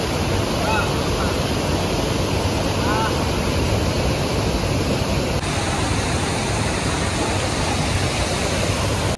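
A waterfall deep in dense Agumbe forest, reached after a half-hour walk, produces a loud, steady, unbroken roar of rushing water that fills the whole scene.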